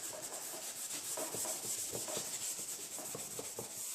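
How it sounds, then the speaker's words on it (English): Sandpaper rubbing primer up to the edge of a repaired panel on a 2011 Ford Taurus after front-end collision damage, a steady run of short back-and-forth scrubbing strokes, close and fairly quiet, with no talking. "So I'm going to sand up to the edge."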